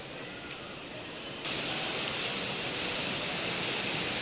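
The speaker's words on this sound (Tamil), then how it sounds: "இப்போ தண்ணி விடுறேன் பாருங்கள்." A steady rushing hiss of water pouring into a pot on a terrace garden, growing louder and fuller partway through and continuing without pause, close up with no talking.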